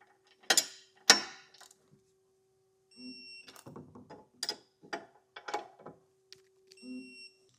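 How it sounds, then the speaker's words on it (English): A torque wrench tightens the bolts of an EcoHitch hidden trailer hitch on a 2025 Hyundai, giving two sharp metallic clicks followed by a series of softer ratcheting clicks and mechanical taps against a steady faint hum. "Now we'll take our torque wrench and go over everything and torque it down to the specification"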